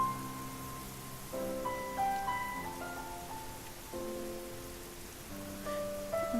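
In the video game Fausts Alptraum, rain falls in a constant steady hiss behind slow, gentle melodic notes.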